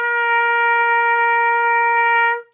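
A trumpet holds one long, clear high C, loud and even for over two seconds before dropping off cleanly, heard alone.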